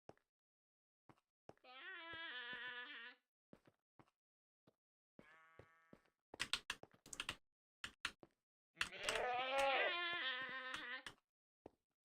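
A quantum goat creature in a video game gives three buzzy, harmonic bleating calls, each lasting one to two seconds, with brief clicks and sharp transients between them and no talking.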